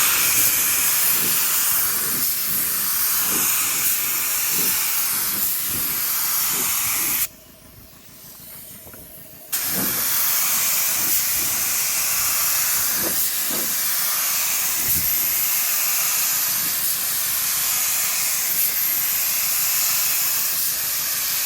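A spray gun sprays paint on an LS-swapped El Camino's doors and fenders, a steady, loud hiss running almost continuously, broken by one short pause, with faint clicks and knocks underneath.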